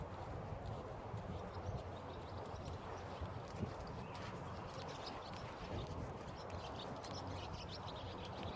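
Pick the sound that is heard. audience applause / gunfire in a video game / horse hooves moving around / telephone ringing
horse hooves moving around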